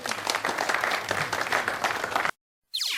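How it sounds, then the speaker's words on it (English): Crowd applause for a Delhi rock band fills the air in a steady, dense wash of clapping, then cuts abruptly to a short silence before a different sound begins. "Can we have a round of applause for them?"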